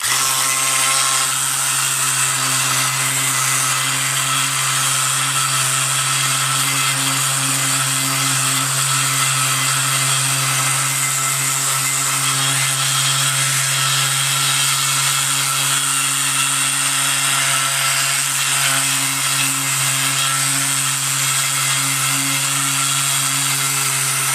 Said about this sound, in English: I'm going to sand it up to get all the loose stuff off. Make it nice and flat.